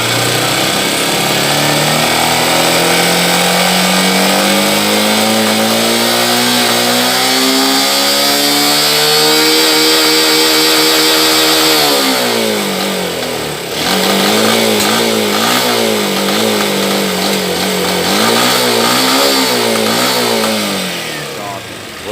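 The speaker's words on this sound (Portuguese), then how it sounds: "vou acelerar e segurar constante uma aceleração." A 2015 Honda NXR 160 Bros ESD motorcycle engine, which misfires at high rpm once warm, revs up loud and close and is held at steady throttle, its note wavering and stuttering as it falters, with a voice speaking over it.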